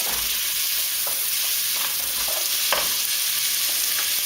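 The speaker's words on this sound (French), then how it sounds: "c'est vraiment faire revenir rapidement, histoire que ça dégage un petit peu les odeurs" Vegetables are sautéed quickly in a pot for one-pot couscous, giving a steady bright sizzle with occasional soft stirring scrapes, close up and with no one talking.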